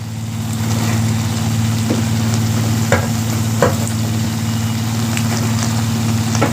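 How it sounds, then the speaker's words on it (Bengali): Shredded cabbage fries in spice masala with a loud, steady sizzle and a low hum underneath, as a spatula stirs and scrapes the pan a few times. "মশলার মধ্যে দিয়ে আমি ভালো করে বাঁধাকপিটাকে কষিয়ে নেব"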